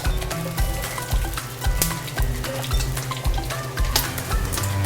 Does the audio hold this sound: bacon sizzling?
yes